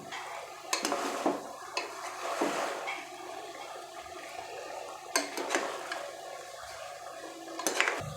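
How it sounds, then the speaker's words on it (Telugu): Ginger garlic paste fries in a pan for chicken curry while a spoon stirs it, giving a steady low sizzle broken by sharp spoon clinks and scrapes against the pan. "అల్లం వెల్లుల్లి పేస్ట్ పచ్చి వాసన పోయినంత వరకు చక్కగా స్పూన్తో కలుపుతూ ఫ్రై చేసుకోవాలి"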